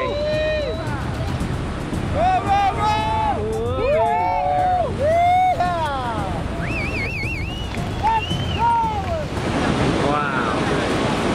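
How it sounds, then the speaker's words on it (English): A huge ocean wave breaks at Mavericks during a jet ski tow-in surf session, a loud continuous roar of surf and wind, while excited voices shout and talk over it throughout. "a jet ski tows McNamara into one of the biggest waves we've seen all day"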